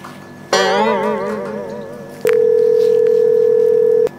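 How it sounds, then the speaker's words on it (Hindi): A warbling electronic tone rises briefly, then a steady, loud telephone dial tone hums alone for about two seconds. "फोन मिला एक बार उसे।"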